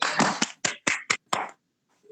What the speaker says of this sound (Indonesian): beri tepuk tangan kepada kelompok 1